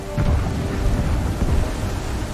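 Stormy sea weather in Assassin's Creed III, with a loud, steady rumble of thunder and rain rolling continuously through the whole stretch, heavy low booms swelling briefly near the start and middle.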